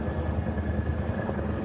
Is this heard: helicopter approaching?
yes